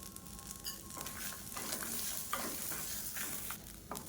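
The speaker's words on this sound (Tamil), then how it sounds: "இப்போ தேங்காய் எல்லாமே நல்லா வறுபட்டுருச்சு." Grated coconut and curry leaves fry in a pan with a soft, steady sizzle while a utensil stirs and scrapes now and then, close and fairly quiet, with no talking.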